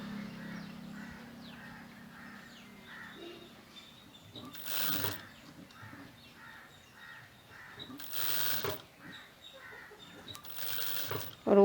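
A sewing machine stitching a blouse in a tailoring shop, with short quiet runs of rapid needle chatter and a few louder bursts, heard faintly alongside soft handling noises.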